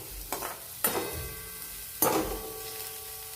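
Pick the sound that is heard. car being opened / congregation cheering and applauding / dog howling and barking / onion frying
onion frying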